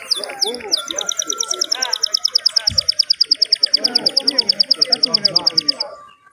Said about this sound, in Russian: вот, друзья, запела птица.